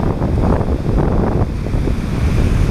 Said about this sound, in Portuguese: vem onda de tudo quanto é lado.